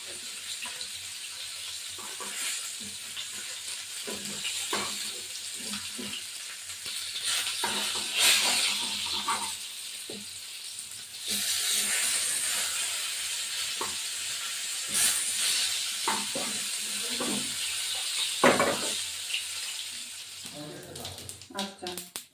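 Katla fish pieces frying in a pan for a cumin and potato curry, giving a steady close sizzle with bursts of louder spattering and scattered clinks and stirring sounds.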